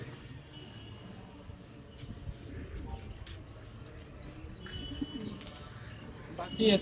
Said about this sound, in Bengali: আর দশটার ভিতরে আমার পাঁচটা কবুতর চলে আসছে একশো বিশ কিলোমিটার থেকে